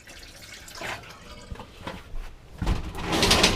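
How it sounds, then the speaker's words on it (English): Liquid pours and splashes into the sink of a Coachmen 21QB RV motorhome, in short irregular bursts that end in a louder, steadier pour. "I'm just going to dump a little bit in the sink, and this sink."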